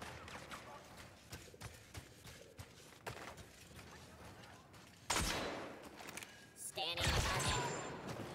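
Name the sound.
gunfire firefight in video game Star Wars Battlefront 2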